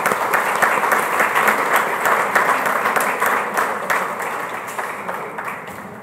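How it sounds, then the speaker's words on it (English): A large audience applauds loudly and steadily at a corporate inaugural event, the dense clapping holding for about six seconds before easing slightly toward the end, with no voices over it. "A big round of applause for them."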